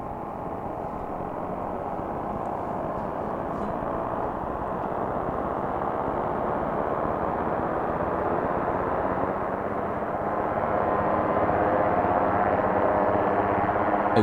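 An Oberheim Matrix 1000 synthesizer preset produces a helicopter-like effect: a dense, steady, noisy whooshing rumble with a fluttering texture, sustained throughout and slowly swelling a little louder toward the end.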